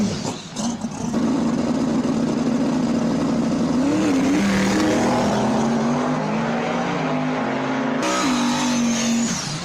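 A race car drives hard around a track, its loud engine droning and rising steadily at close range through the whole stretch, with a brief shift in tone near the end and no talk over it.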